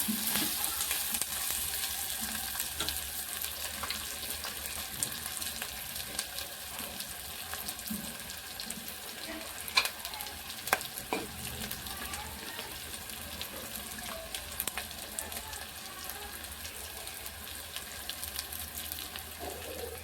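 Potato pieces fry in hot oil with ginger garlic paste, a dense, steady sizzle that carries on evenly throughout, with a few small clicks and stirring knocks popping out near the middle.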